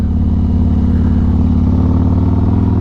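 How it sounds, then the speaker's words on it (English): A motorcycle fitted with a Bassani Road Rage 2 mid-length exhaust and an S&S 475 cam rumbles loud and close with a steady, lumpy throb, no voices. "I swapped to the Bassani Road Rage 2"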